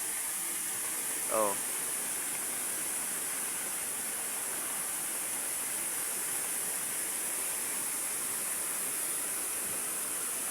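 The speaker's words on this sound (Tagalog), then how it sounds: "Ayan mandaragat pag may ulan, pag malakas ang ulan, sobrang lakas din ng hangin." Strong wind and rain during Typhoon Kristine near the sea; a steady, broad, hissing roar of rain and gusts fills the whole stretch at moderate level, with a brief faint sound early on.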